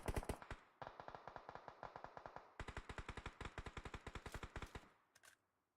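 Rapid gunfire in a video game match: fast rhythmic bursts of sharp shots, near and loud, with brief gaps and a final lone shot, no voices.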